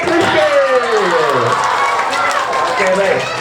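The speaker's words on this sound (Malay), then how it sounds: "Okey, berikan tepukan gemuruh kepada adik Anik Rizky." Audience at a Malaysian National Day closing performance of a storytelling competition cheers and claps loudly and steadily after a child's story, with voices and shouts mixed into the crowd noise.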